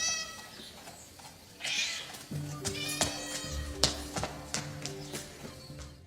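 A cat being chased through castle corridors lets out a string of loud, close meows and yowls, mixed with tapping footsteps and scuffling sounds.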